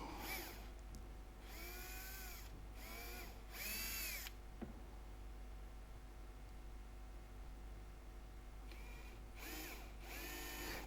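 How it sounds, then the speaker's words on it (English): Power drill boring small holes in a guitar neck for side dots, several whining bursts that rise and fall in pitch, separated by a pause of near silence. "And now just putting drilling for the side dots."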